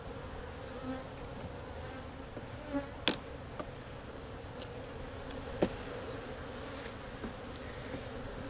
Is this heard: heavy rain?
no